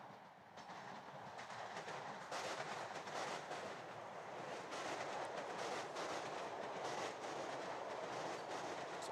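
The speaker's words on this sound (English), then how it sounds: "the Massapequa train passes by us, behind us" A Massapequa commuter train passes behind a soccer field during a Long Island amateur league match. Its steady, faint, distant rumble and wheel clatter run the whole time, with no voices.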